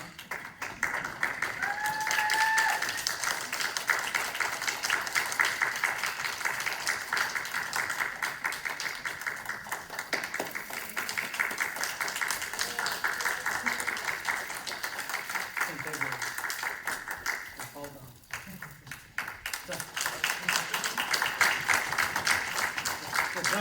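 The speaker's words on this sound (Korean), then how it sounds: "받을 때 다 같이 힘찬 박수 보내도록 하겠습니다" Church congregation applause during a Sunday worship service, a steady clapping that rolls on for some time at moderate distance, dipping briefly near the end before picking back up, with voices faintly present.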